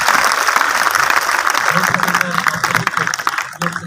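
A crowd at a girls' skills and youth camp in Rajim claps loudly and steadily close by, with voices mixed in as the clapping thins out toward the end.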